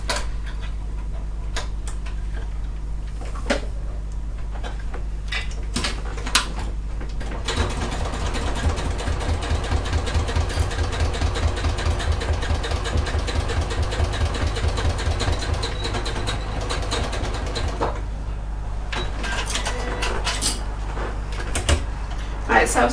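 A sewing machine stitches a wristlet strap for a bag at a short stitch length, reversing at the start and end. It runs as a steady, close mechanical whir for much of the clip, with brief handling noises before and after.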